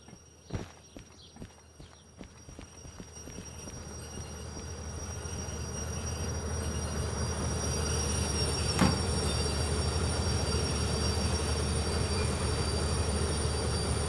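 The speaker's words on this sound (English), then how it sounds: "Heavy train." A heavy freight train rolls past during town and factory shunting, a continuous loud rumble of wagons and clanking wheels that builds and holds steady, with sharp metallic knocks near the start.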